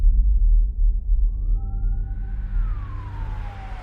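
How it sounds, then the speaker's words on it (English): An ambulance siren sound effect rises in a smooth wail and then falls away. It sits over a low rumbling bed of noise and is heard alone, with no voices. "After an ambulance arrived and took Becky to the hospital"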